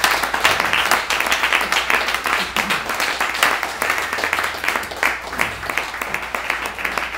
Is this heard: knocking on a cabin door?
no